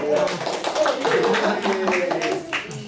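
Students in a classroom give a short round of clapping, the light, irregular claps mixed under a teacher's voice and children's chatter.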